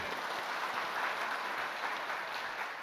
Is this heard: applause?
yes